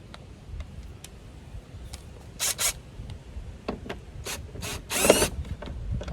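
Torx screws being backed out of a mirror turn signal housing, heard as scattered dry clicks and ratcheting ticks with a few louder bursts, close and alone.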